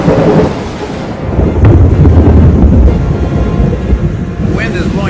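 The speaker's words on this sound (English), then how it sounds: "That's thunder." Summer thunderstorm in Montreal: deep rolling thunder rumbles over a steady roar of heavy rain, with gusty wind buffeting nearby.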